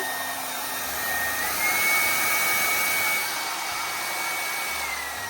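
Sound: Bellissima Italia Diffo hair dryer running

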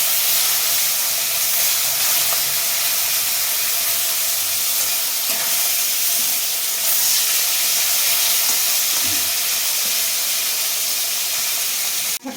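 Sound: koi fish frying in hot oil

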